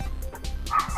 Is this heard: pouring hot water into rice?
no